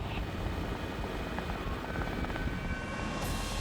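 Helicopter flying over an illegal gold-mining region in Roraima, heard as a steady, low rotor and engine drone that holds evenly throughout without any talk.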